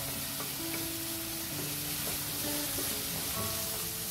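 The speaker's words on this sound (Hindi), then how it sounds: "इन मसालों को हम अच्छे से भून लेंगे। फ्लेम मैंने हाई पर ही रखा हुआ है।" Dry spices and Kashmiri red chilli fry in hot oil over a high flame, a steady dense sizzle with a few faint scraping stirs, close and continuous without any voices.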